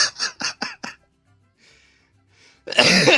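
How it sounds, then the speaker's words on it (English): A burst of several quick, harsh coughs close to the mic, then near silence with faint breaths, ending in a loud throat-clearing rasp. "So I apologize for coughing in your ears"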